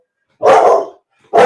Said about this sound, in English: The pup's with me today.